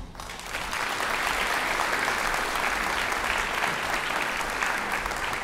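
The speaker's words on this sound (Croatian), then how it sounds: "Pozdravite ih jednim srdačnim pljeskom." An audience at a patriotic music and stage show gives a warm, steady round of applause to a folk song-and-dance ensemble, the clapping swelling quickly and holding even and full.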